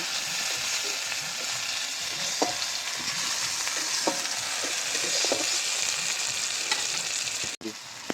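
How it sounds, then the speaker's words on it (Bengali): Tomatoes and onions frying in a pan give off a steady, close sizzle throughout, with a few sharp pops and spatters scattered over it and a brief clatter near the end. "এবার টমেটো পেঁয়াজ ভালো করে ভেজে নেব।"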